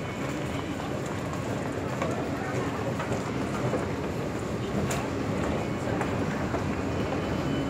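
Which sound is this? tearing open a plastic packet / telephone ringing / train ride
train ride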